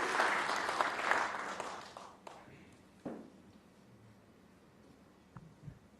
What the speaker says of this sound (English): The applause there, Alan, warranted